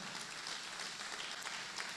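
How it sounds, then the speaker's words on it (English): Audience applause at a photography business conference keynote, a dense patter of many hands clapping, moderately faint and heard on its own without talk. "I think we all deserve a big round of applause."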